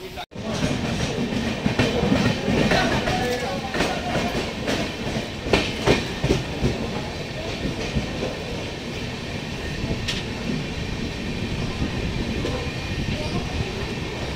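Indrayani Superfast Express 22105 on a Mumbai–Pune run at Lonavala station: a constant low rumble with scattered metallic clanks and clicks, plus an indistinct murmur of voices in the background.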